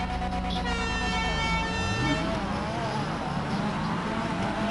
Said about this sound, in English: so on my third honk